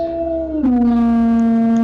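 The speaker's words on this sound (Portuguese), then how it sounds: "foi quando ouviram um uivo, já bem perto deles" A long, loud howl of a beast in a narrated tale: a sustained tonal wail that slides down in pitch, then holds steady, close and alone without talk.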